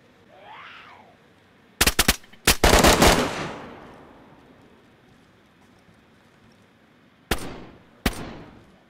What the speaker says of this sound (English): I'm watching them shoot through the wall underneath me.